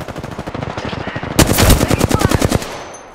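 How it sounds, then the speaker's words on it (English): Automatic weapon fire in the Apex Legends battle royale game, a steady rapid stream of shots that swells into a louder, closer burst of heavy gunfire midway, then cuts off into quieter background. "Firing! They're aiming right at you."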